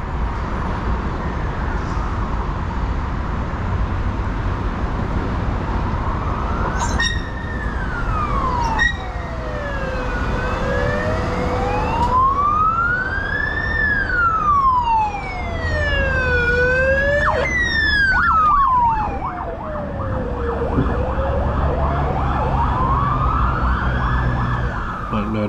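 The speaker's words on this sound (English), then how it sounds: "That wasn't a standard ambulance, it said mobile stroke unit on the side of it." A mobile stroke unit ambulance siren wails and yelps, rising and falling in sweeping cycles as it passes nearby over steady traffic rumble on a St Kilda street, loud throughout.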